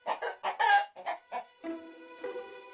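A hen clucks in a quick series of short, bright clucks, then drawn-out, tonal squawking calls, heard alone and fairly close.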